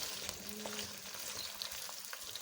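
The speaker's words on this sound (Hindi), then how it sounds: "2 मीडियम साइज़ के मैंने प्याज बारीक काट दिए हैं। हाफ कप ऑयल डाल के मैं उसको अभी ब्राउन कर लूँगी।" Two finely chopped medium onions frying in half a cup of oil in a pan give a soft, steady sizzle with faint crackles and pops, low in level with no talking.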